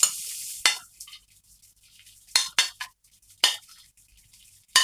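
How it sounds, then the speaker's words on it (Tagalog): Butter for bangus sisig melting in a hot pan: a soft sizzle hisses in the background while a utensil scrapes and clacks against the pan in several sharp, close strokes spread through the clip. "So, lagyan na natin si butter."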